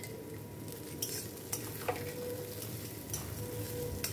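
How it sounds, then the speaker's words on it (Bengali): Potatoes with dried red chilli and ground coriander are stirred and fried in a pan, a low steady sizzle with occasional sharp scrapes and clinks of a spoon against the pan. "আর ভালো করে নেড়ে আলুটা একটু ভাজা ভাজা করে নেব।"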